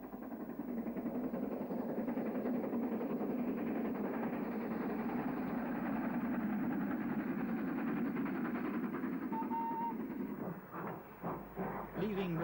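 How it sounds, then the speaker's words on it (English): A steam train runs through Coulsdon on the South Eastern and Chatham line, making a steady rumbling roll at moderate distance that fades near the end. "the train is seen heading for Red Hill on the South Eastern and Chatham line through Coulsdon"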